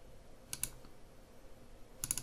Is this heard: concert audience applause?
no